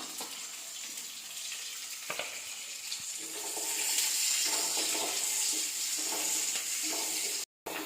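Small onions, about 100 grams chopped, sauté in a pan for a brinjal kara kuzhambu, a steady hissing sizzle that grows slightly louder midway, with occasional stirring clicks.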